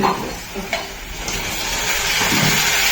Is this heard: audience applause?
no